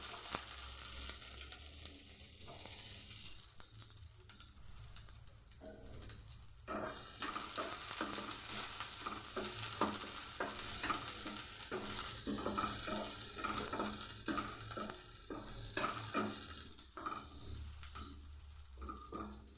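Chopped onions fry in a pan with cumin while making noodles, a soft continuous sizzle broken by scraping stirs and occasional clinks of a spatula against the pan.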